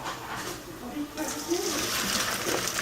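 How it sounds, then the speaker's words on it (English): Cooked pasta and its hot water pour from a pot into a colander in a kitchen sink, starting as a rushing splash midway and continuing steadily while someone talks. "we're going to go ahead and take this right on over to the colander in the sink here"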